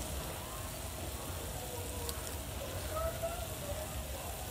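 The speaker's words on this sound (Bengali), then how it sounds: "তো সাথে পেঁয়াজের সাথে ভাজা ভাজা করে নিচ্ছি।" Chopped onions and tomatoes fry with salt in a pan, giving a steady, even sizzle that runs unbroken at moderate loudness with no talk over it.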